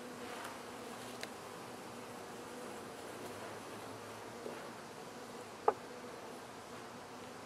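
Honey bees hum quietly around hive frames, a soft continuous buzz with a few faint clicks and one brief sharp tap.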